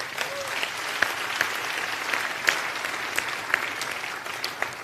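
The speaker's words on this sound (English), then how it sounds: "You want to clap?" A church congregation claps during a sermon on tithing, a steady patter of applause with a few sharper individual claps standing out, fairly even in loudness throughout.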